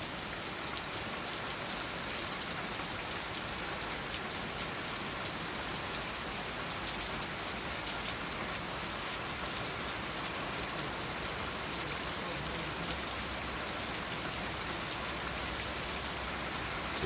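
Heavy rain falls steadily, a dense continuous hiss of drops on surfaces with no letup, fairly close and alone without talk.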